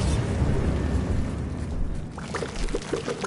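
A Bombarda spell explosion in Hogwarts Legacy bursts as a loud, rumbling, crackling blast that fades into scattered debris clatter.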